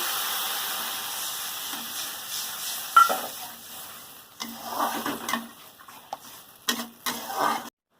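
Water is poured into a pan of frying mustard paste masala with turmeric, and it sizzles and hisses in uneven bursts with stirring scrapes. The sound is close and of moderate loudness.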